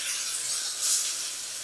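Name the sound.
frying squash sizzling in skillet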